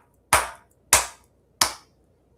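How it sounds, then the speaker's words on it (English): Four sharp, widely spaced hand claps, loud and close, each with a short decay before the next. "Let's give them a round of applause."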